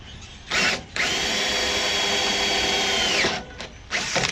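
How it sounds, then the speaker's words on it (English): A power drill with a Forstner bit whines loudly as it bores into wood, with a short burst, a brief pause, then a long steady grinding run, stalling, before stopping and starting again. "So I'm gonna hog it out with my Forstner bit."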